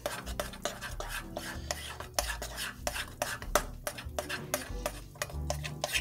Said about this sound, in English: I'm gonna mix it just a little bit more